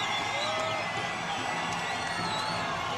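Arena crowd at Gina Carano's second MMA fight, a steady dense roar of cheering and whoops with scattered shouts and some clapping, filling the space without break.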